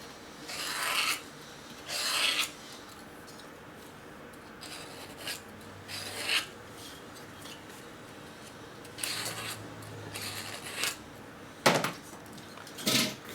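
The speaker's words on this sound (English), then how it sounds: "So I use my deburring tool here for deburring the cylinder top." Hand deburring tool scraping the top edge of a bored Harley Twin Cam motorcycle cylinder, heard as a series of short rasping strokes, about eight separate bursts at an irregular rhythm, close and fairly quiet with pauses between.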